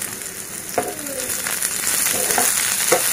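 Cumin and fennel seeds frying in hot oil, a loud close continuous sizzle with a few spoon scrapes and stirring knocks, no talking.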